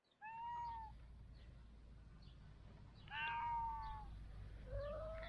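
A cat meows three times nearby: a short call, a longer louder one, then another, over a faint low background hum with no talk.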